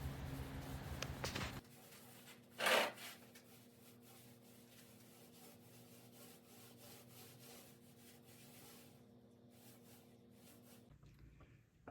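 Quiet, repetitive rubbing strokes of sanding on wood continue under a low background hum, after a brief louder scrape near the start.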